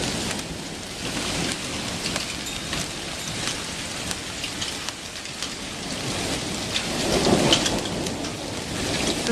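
A Chicago thunderstorm rumbles almost without pause, its low thunder rolling continuously beneath steady rain pattering on surfaces, with a slightly louder swell near the end.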